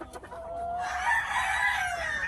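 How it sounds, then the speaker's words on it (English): Gamefowl, a Kearney White Hackle rooster and a Leonred hen, heard as a few soft clucks followed by a long, loud crow that carries on close by. "Kearney White Hackle rooster, Leonred hen"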